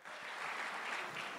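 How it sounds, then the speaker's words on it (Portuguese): An audience at a hypnosis show claps together in a brief, steady burst of applause that sounds fairly faint and somewhat distant, with no voices on top. "uma salva de palmas para os nossos astros"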